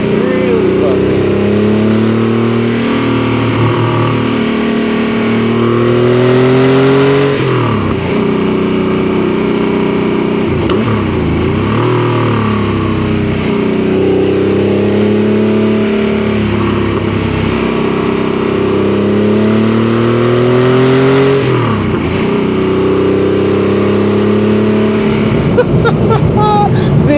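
An air-cooled Porsche 964 911 flat-six climbing a mountain road, loud and close, rising through the revs in repeated sweeping pulls with gear changes between, popping on the overrun, a voice speaking over it at times.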